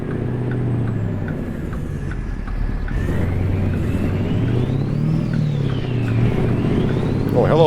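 A bus rumbles past on a Nevada road in American Truck Simulator, a low engine drone swelling over a steady truck cab hum, with a rising whine near the end.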